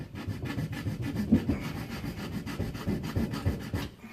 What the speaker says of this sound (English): Take my old trusty jab saw here, and I'm going to start sawing away.